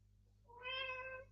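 A single cat meow rises clearly above a quiet room hum, a short tonal call of about three quarters of a second.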